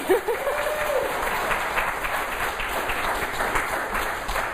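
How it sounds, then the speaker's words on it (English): An audience applauds a speaker at a fundraising talk about a foundation store, a continuous wash of clapping heard from a distance in a hall, steady throughout. "You can applaud for me if you want."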